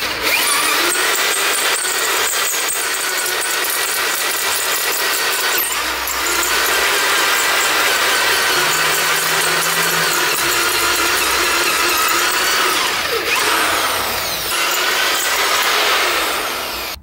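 A drill bores holes through a Toyota Starlet cylinder head, enlarging them to 10.5 mm. Close, continuous loud grinding and whirring metal cutting runs throughout with slight changes in pitch and no voices.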